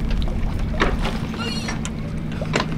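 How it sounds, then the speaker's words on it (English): A sailboat motors under engine power with its sail stowed, a steady low droning hum under wind buffeting and water noise, with a few brief splashes or knocks. "we're gonna put the sail away, run the engine"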